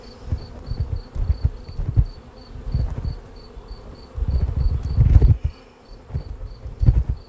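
Honey bees buzz around a crowded colony after the honey flow, a close droning hum that swells and fades as insects pass, under a steady high chirping of crickets and some dull knocks.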